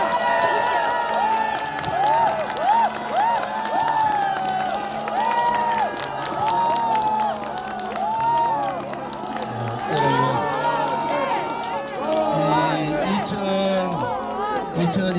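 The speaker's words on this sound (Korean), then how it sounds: "여러분 큰 박수 주십시오." A crowd cheers and applauds at a Republican party new year political rally in Korea, a sustained dense roar of clapping and shouts mixed with amplified voices and music throughout.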